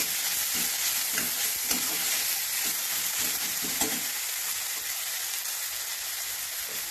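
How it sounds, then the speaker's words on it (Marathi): Vegetables for a kadavan chachi bhaji being sautéed in a pan with ginger-garlic paste, a soft continuous sizzle with light stirring scrapes in the first half, fading to a gentle hiss. "थोडा वेळ अजून परतूया"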